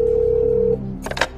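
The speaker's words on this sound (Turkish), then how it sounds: "Çalıyor efendim Recep Kumru'nun telefonu" A steady electronic telephone tone hums for under a second, then a short burst of brighter ringing chirps follows.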